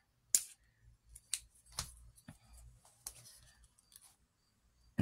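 Scissors make a handful of small, close snipping cuts through a little piece of craft material for a DIY fairy house in a tree, with crisp isolated clicks spaced across a quiet room and no talking.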